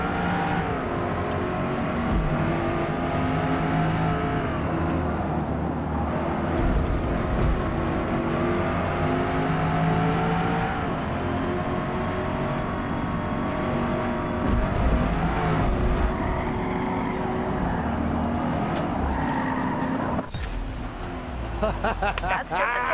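Race cars driving in Forza Motorsport during a practice session with light traffic, a steady engine drone with rising and falling revs running throughout, loud and continuous, with a sharp change near the end.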